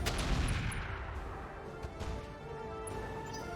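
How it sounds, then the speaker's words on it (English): Artillery fire in the RogueTech video game: a dense barrage of overlapping booms and crashing blasts, loud and continuous, slowly thinning but never stopping. "We're just going to drop artillery on"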